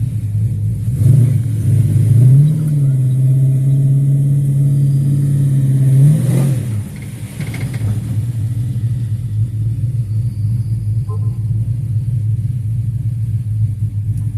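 A 1969 Chevrolet Chevelle engine rumbles loudly and revs up, holds a deep throaty pitch as it accelerates, then drops back to a lower steady rumble, heard from close by.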